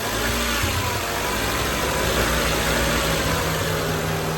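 A used Mazda car engine runs right after an oil change, a loud, steady close-up idle drone that holds even throughout with no talking.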